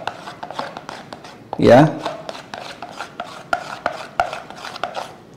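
Shrimp cake batter is stirred with a utensil in a bowl, giving a series of short scraping and tapping strokes with one louder rasping burst, while someone talks over the mixing.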